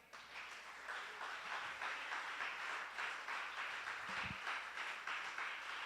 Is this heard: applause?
yes